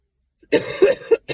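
A person coughs several times in a quick, harsh burst, close and loud, with a short pause before the last cough.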